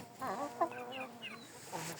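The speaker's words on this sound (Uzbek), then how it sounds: "Mana sizni xo'rozingizni bolasi bu, jo'ja tovuqlarim." Chickens and young chicks, offspring of a rooster, clucking in short, uneven calls over about two seconds, moderately close, with no talk.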